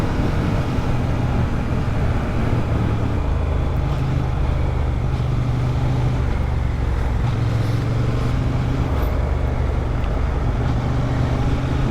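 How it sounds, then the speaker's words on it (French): Honda Hornet 750 motorcycle cruising with a line of about ten motorcycles behind it, a steady low engine drone mixed with heavy wind rush on the microphone, continuous and loud throughout. "Parce que j'ai toute la file de motos derrière moi."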